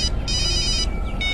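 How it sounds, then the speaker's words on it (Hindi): A cartoon telephone rings with bright electronic trills, two short bursts and a longer one over a low background hum, close and clear. "अरे ये फोन किसका बज रहा है।"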